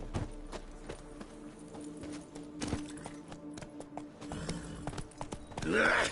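Hooves of the horse Roach clip-clop in a video game, a steady walking rhythm of distinct knocks under faint background sounds, with a louder burst near the end.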